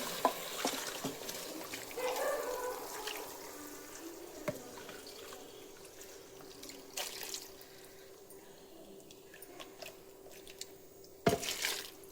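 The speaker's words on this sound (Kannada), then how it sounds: "ಸ್ವಲ್ಪ ನೀರು ಹಾಕೊತಿದ್ದೀನಿ" Water poured into spiced masala for a village-style Karnataka country chicken (naati koli) curry gives a faint, soft trickle with a few light drips, quiet and close, with no talking.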